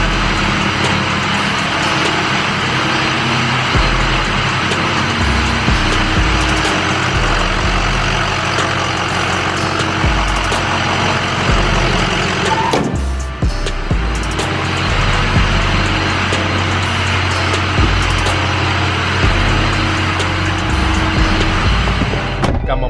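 Ford F250 pickup with the 6.0 Power Stroke diesel engine, a steady loud close diesel rumble and idle drone running continuously with a brief dip partway through.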